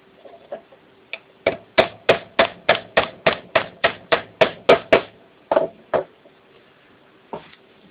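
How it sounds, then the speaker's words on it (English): A series of about a dozen sharp metallic taps from a pin hammer driving a shaft through a gear and side plate, evenly paced and close, with a few scattered lighter taps before and after. "tap it through with the pin hammer"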